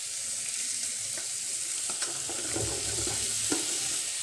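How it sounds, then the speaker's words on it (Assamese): Potato pieces frying in hot oil for an Assamese drumstick curry, a continuous close sizzle with occasional stirring clinks and scrapes, no voices. "এই আলুখিনি মই এতিয়া অকণমান সময় ভাজি লম"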